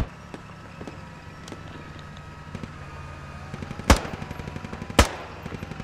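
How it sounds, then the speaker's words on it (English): Video-game gunfire pours onto enemy infantry: rapid machine-gun bursts patter throughout, broken by two loud, close booming shots near the end. "Just shoot everything you got on the enemy infantry."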